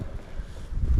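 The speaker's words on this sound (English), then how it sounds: "It's way too windy today to film outdoors" Strong outdoor wind buffets the microphone at an abandoned RAF airbase, a steady low roar with rumbling gusts that swell toward the end, with no talking.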